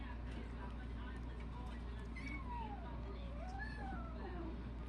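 Two kittens meowing while they wrestle at someone's feet during bead jewelry making, with faint high meows rising and falling over a steady low background hum; soft speech-like sounds mix in throughout.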